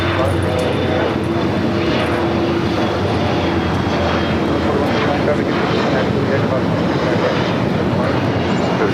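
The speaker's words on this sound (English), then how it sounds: "Air Canada Dreamliner coming in from Toronto now, crossing over 25 right." An Air Canada Boeing 787 Dreamliner arriving from Toronto at LAX roars overhead as it crosses runway 25 right, a loud, continuous jet rumble that fills the whole span.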